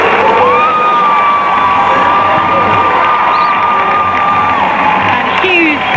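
A stadium crowd at a Manchester United Women versus Brighton Women football match cheers loudly and steadily as a player comes on as a substitute. Scattered whoops and whistles ride over the constant roar.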